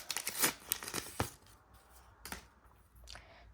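Plastic packet handled close up, giving quiet bursts of crinkling and rustling that come and go in short irregular clusters, with no talk.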